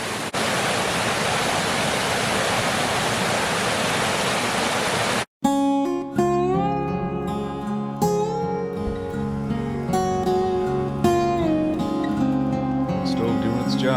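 A small waterfall at the start of a ski and hiking trail gives off a steady, full rushing roar of falling water for about five seconds before the sound cuts abruptly to music.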